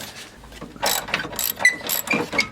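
A ratchet wrench clicks in short bursts while tightening bolts on a car being revived after sitting over a year, close and crisp, with brief pauses between strokes.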